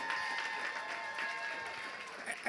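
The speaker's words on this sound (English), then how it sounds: "Clap it up" Audience applause at a charity luncheon gala honouring a donor, a steady dense patter of many hands held at an even level for a couple of seconds, with crowd noise mixed in.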